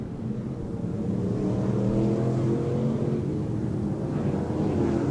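Stock cars racing at Off Road Speedway, with engines roaring continuously as a pack of cars passes, loud and close, and no voices over it.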